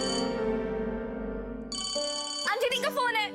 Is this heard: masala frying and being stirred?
no